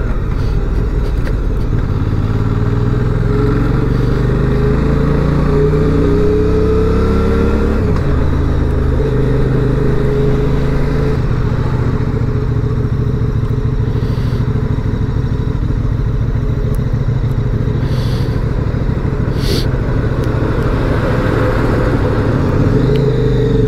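Engine of a 2023 QJ Motors SRV 550 motorcycle revving, a loud, deep rumble rising and falling through several throttle blips before settling into a steady idle, echoing off surrounding walls with no speech.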